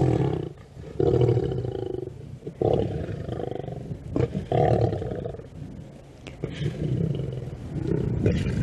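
A male lion roars at night during a sunset safari drive, a series of deep, loud, grunting bursts that rise and fall with short gaps between them, close and dominant.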